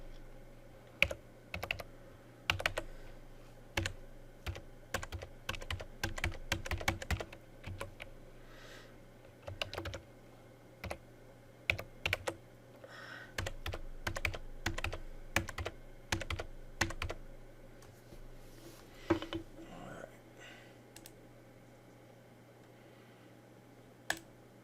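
Keys clatter on a computer keyboard as a password is typed, in uneven bursts of close, crisp clicks and taps with short pauses between runs, over a faint steady room hum.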